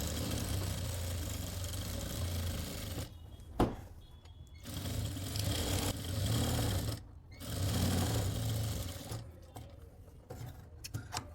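A sewing machine stitches a lined suit at a boutique in bursts of rapid whirring whir, stopping and starting several times with short pauses between runs, fairly faint and close.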